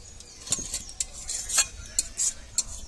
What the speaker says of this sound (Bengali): তো তরকারিটা আমি ঢেলে নিচ্ছি।